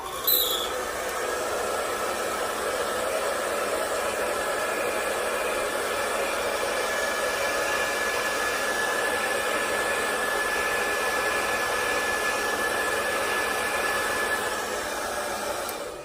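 A household hair dryer on warm and cold settings blows upward onto mascara-coated eyelashes, giving a steady, unbroken airy whir that holds at an even level for about sixteen seconds with no one speaking.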